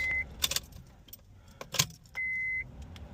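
Car keys jangle close by inside an Acura RSX as the ignition is switched on, with two short electronic chimes and a faint engine-bay hum underneath, quiet overall.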